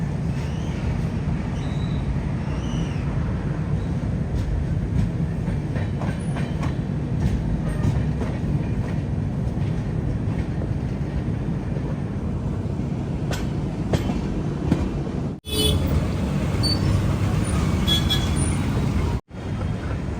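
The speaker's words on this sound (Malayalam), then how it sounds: "അങ്ങനെ സിക്കന്ദരാബാദ് ജംഗ്ഷൻ റെയിൽവേ സ്റ്റേഷനിലേക്ക് ഇതാ നമ്മുടെ ട്രെയിൻ എടുത്തുകൊണ്ടിരിക്കുകയാണ്" The Godavari Express runs on its rails near Secunderabad Junction, a continuous rumble and rattle of carriages heard from inside, with two sharp brief breaks late on.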